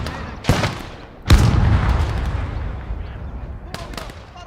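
Grenade explosions in a video game: a sharp blast, then a heavier boom with a long rumbling decay, and another sharp report near the end.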